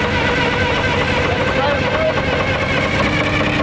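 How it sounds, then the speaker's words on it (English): Diesel engine of a large excavator left at an abandoned mine running loud and steady, a dense continuous rumble with no pauses. "we can try starting this engine up"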